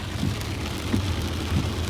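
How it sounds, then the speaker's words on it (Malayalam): Steady hiss of heavy rain pouring down near Kalpetta, Wayanad, a dense continuous wash with a low rumble underneath, loud and close throughout. "നല്ല മഴ കേട്ടോ പുറത്തുനോക്കി"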